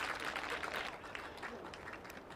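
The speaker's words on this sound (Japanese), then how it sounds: "大きな拍手。" Crowd applause at a minor-league baseball game at Toda stadium in Japan after a catch in right field, heard as a faint, distant patter of clapping under a general crowd murmur.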